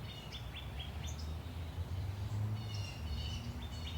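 Several birds chirp and tweet in short, scattered morning calls at a moderate distance over a low, steady background rumble.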